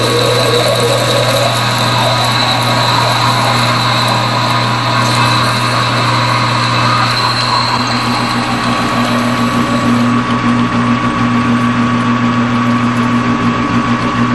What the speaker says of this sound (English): take a spade drill, back in there, fish punching it out